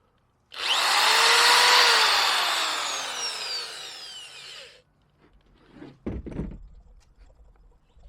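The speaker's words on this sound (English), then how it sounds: "Electric drill." A power drill whines loudly at high speed for a few seconds, slowing as it stops, followed by a few clunks and knocks.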